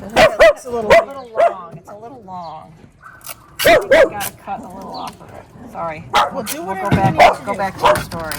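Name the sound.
dogs barking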